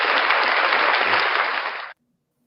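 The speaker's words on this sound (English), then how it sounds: "So round of applause for Frauditor News Network for having a great idea." Steady applause from a small audience rings out loud and continuous for about two seconds, then cuts off abruptly into silence.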